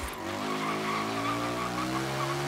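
Tires squealing under a drifting car in Forza Horizon 3, a sustained tonal screech over steady engine drone, loud and continuous through a slow cornering slide.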